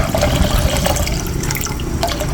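Two liters of water poured into a pot at the start of making fish sinigang, a steady broadband rush of running, filling water lasting throughout, close and fairly loud with no talk.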